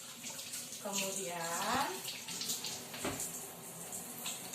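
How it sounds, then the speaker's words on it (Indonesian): Tap water runs in a steady stream as hands are washed under the flow at a sink, a continuous hiss heard behind a voice speaking. "Cucilah tangan dengan prinsip air mengalir."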